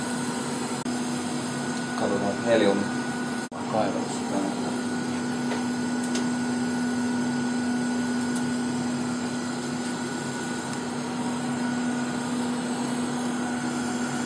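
The vacuum suction on a vinyl cutting lathe runs as a steady droning whoosh with a constant humming tone throughout, while someone speaks briefly near the start.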